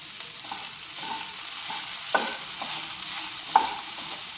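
Garlic and curry leaves roast in a pan for raw tomato chutney, a soft steady sizzle broken by a few spatula scrapes and taps, close but fairly quiet, with no voices.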